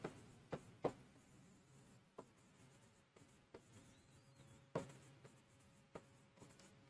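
Chalk or marker strokes on a board in a quiet room, a series of faint scratches and sharp taps spaced irregularly, with no talking.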